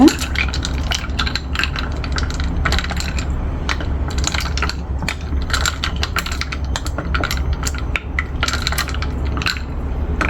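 A mango drink is stirred with ice cubes in a glass, producing continuous rapid clinking and rattling of ice against the vessel throughout.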